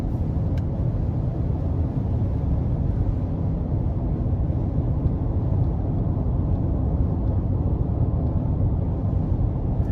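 A 2023 Hyundai Santa Fe Hybrid SEL Premium with a 1.6 turbo four-cylinder cruising, heard from inside as a steady, even low road-and-engine rumble that holds constant throughout.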